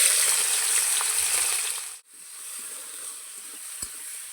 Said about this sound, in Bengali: এই তেলের মধ্যে চিংড়ি মাছটা ভেজে নেব